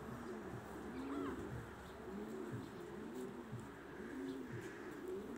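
Homing pigeons coo in repeated soft, rolling phrases near a loft, a steady low burbling that continues throughout with faint chirps in the background.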